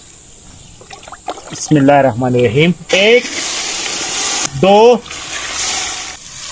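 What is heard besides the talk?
water poured into rice pot for pulao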